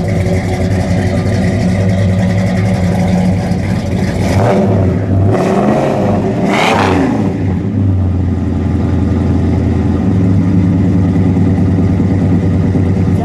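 A 1963 Plymouth Savoy with a 426 Max Wedge engine idling loud and close, a steady lumpy rumble broken by two or three quick throttle blips in the middle before it settles back to idle.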